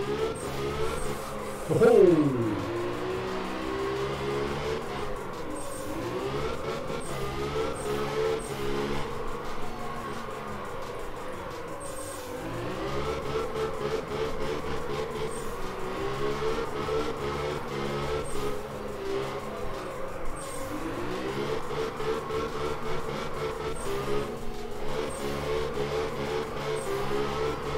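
A car engine revs and whines steadily while drifting in the Absolute Drift video game, pitch rising and falling with repeated throttle swells across a long continuous run, with a brief exclamation from a voice.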